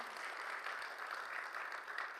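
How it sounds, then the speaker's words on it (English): An audience at an awards gathering applauds itself, a soft, even patter of clapping from a distance, low in level throughout, with no clear talk. "Please applaud for yourselves once again."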